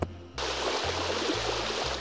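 Tap water gushes steadily over a toy egg being rinsed, a loud, even rush that starts abruptly after a brief quiet moment.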